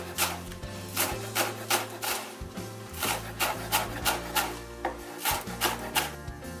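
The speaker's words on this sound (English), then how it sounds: "I'm going to chop up some green onion." Green onion being chopped on a cutting board: a steady run of crisp knife taps, roughly two per second, close by and moderately loud over background music.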